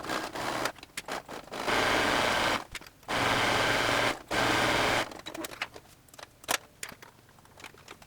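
A sewing machine runs zigzag stitches along the edges of an ear warmer headband, whirring loudly in three short bursts with brief pauses and quieter handling clicks between them.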